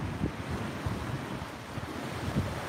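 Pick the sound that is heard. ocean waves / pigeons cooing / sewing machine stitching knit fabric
ocean waves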